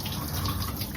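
Water draining off rinsed poha (flattened rice) in a kitchen, a brief, close, steady trickle and patter of liquid running out, with no voices.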